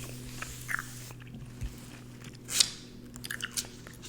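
Gum chewed close to the mic in a soft-spoken ASMR magazine reading, heard as a few sparse, quiet wet clicks and smacks spread over several seconds against a low background hum.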